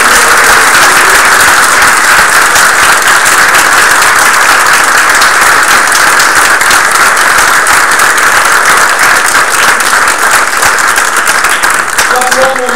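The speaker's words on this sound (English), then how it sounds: "to rapturous applause" Loud, sustained applause from a large crowd at a wedding ceremony fills the space, dense clapping continuing throughout without pause.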